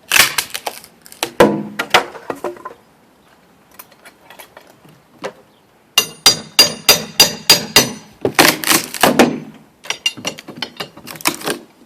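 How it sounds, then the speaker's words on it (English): Hammer blows pry the top trim off a window during installation, sharp knocking strikes and wood cracks in irregular bursts, with a busy cluster of rapid taps after a short quiet spell. "Now I've got to get that top trim off."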